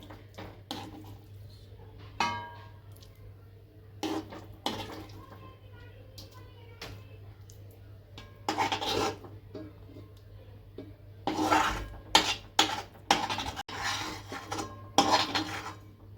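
Mawa, cooked milk solids, scraped from a pan onto a plate with a metal spoon: repeated scraping strokes and sharp clinks of utensil on pan and plate, close and irregular, clustering more densely toward the end.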